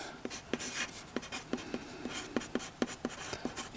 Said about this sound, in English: I'll write the Drifter